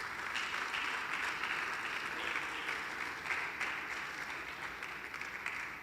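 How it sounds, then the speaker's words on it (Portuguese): A church congregation claps in a sustained, fairly faint round of applause that swells and fades slightly over about six seconds, without talk over it. "Você pode aplaudir Jesus por isso?"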